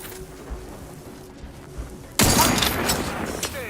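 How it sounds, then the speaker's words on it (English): A loud gun fires in the video game The Outer Worlds 2, a sudden sharp blast that cuts in midway and rings out with a sustained crackling tail over quieter ambient game sound. "This gun is loud as hell."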